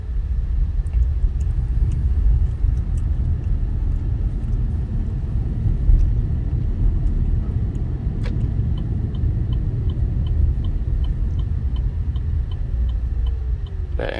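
A Chevrolet Bolt EV electric car under steady one-pedal driving, a continuous low road and tyre rumble heard from inside the cabin with a faint electric whine that rises toward the end.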